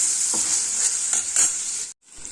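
Green mung bean mixture in a hot pan, stirred over a bright continuous sizzle with a few scraping strokes, then an abrupt cut to near silence; no one speaks.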